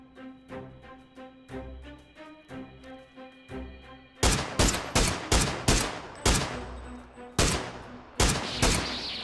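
Gunfire in the battle royale game PUBG: sparse rhythmic single shots at first, then a louder run of sharp, closely spaced bursts, heard alone without talk.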